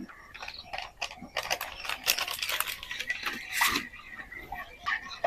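A packet of powdered milk is torn open and its contents added to a cooking filling, giving crisp crinkling and rustling of plastic packaging in irregular bursts, close and moderately loud, with no talk.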